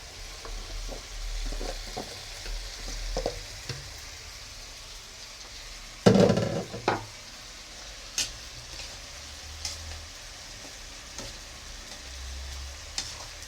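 Bottle gourd (upo) frying in a pan while being stirred, a soft continuous sizzle broken by scraping spatula strokes and a louder clattering stir midway, with scattered light taps.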